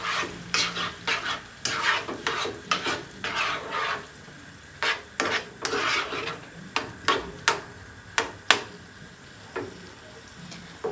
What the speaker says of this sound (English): I'm going to go ahead and pour half of it and then stir.